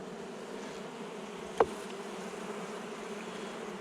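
Honeybees hum in a steady, faint drone inside an open hive during a brood inspection, with one brief sharp knock or click near the middle.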